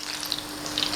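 Chili bajji, gram-flour-battered green chilies, frying in hot oil, giving a steady close crackling sizzle with bright hissing bursts throughout, no voices.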